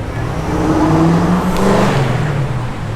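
A muscle car engine revs and whirs nearby in a car park, rising then easing back as it idles, loud and continuous with no voices.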